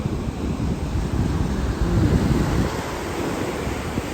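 Sea waves break on a Chennai beach in a continuous loud roar of surf, mixed with wind rumble against the microphone and no talking.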